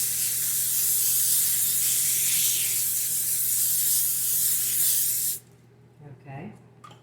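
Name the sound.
cooking spray on parchment paper in a pizza pan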